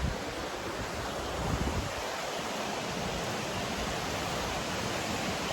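Hebbe Falls, a waterfall near Chikmagalur, sends up a steady, dense roar of rushing water that stays constant and close for the whole stretch, with no voices.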